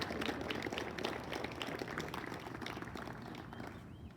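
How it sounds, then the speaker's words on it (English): Audience applause at a high school athletics hall of fame induction, a dense, sustained patter of many hands clapping, fairly faint and distant, tapering slightly at the end. "let's give them a round of applause"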